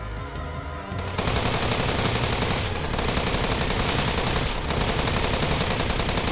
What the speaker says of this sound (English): A lot of sharp noises, and a bullet went through the helmet of the rounder who was holding a knife to my throat.